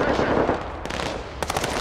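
Machine-gun fire in the Broken Arrow strategy game: a loud, close burst of rapid shots, a brief pause, then a second quick burst over a steady battlefield rumble.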